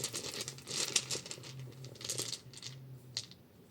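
Small hard objects clatter and rattle against a surface in a few quick bursts, close and fairly quiet, with a faint low hum underneath.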